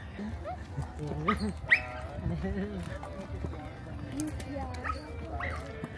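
A dog yips and barks in short bursts with whimpering between, mixed with people talking and general background bustle.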